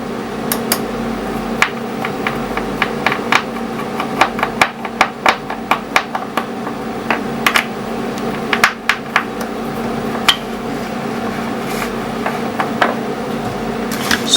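A screwdriver works screws out of a Tokyo Marui SIG P226 airsoft pistol, giving sharp, close metallic clicks and taps at irregular intervals over a steady low room hum.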